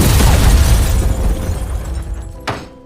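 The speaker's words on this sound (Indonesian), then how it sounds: "Lalu, tiba-tiba rumah Tuan Sang mendadak meledak dan terjadilah kebakaran." House gas explosion in an animated spy story, a loud roaring blast rumbling and crackling before fading into debris noise, with a sharp crack near the end.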